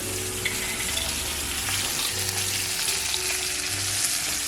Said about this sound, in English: Now I'm gonna add the garlic just to the onions.